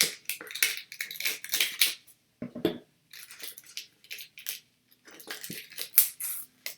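Scissors snip and slice through a well-taped cardboard sticker tube in bursts of close, crisp cutting, with short pauses between runs of cuts.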